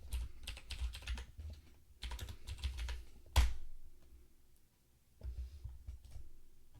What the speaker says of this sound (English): we'll type in Python 3 and then movement.py.